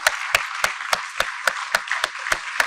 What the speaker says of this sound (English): I think this huge round of applause should be a standing ovation